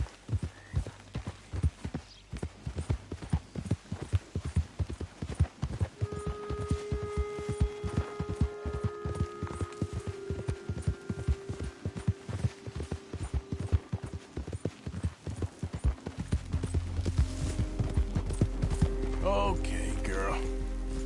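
In Red Dead Redemption 2, a horse's hooves clip-clop in a quick, steady rhythm with rain pattering around, while a sustained tone hums and a rumbling swell builds toward the end.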